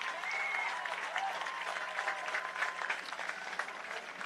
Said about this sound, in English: Claps from the audience